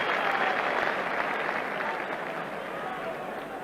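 Football crowd behind the goal at a Spurs v Sunderland League Cup replay reacting to a close free kick, a broad distant roar that swells then slowly fades, with no commentary over it.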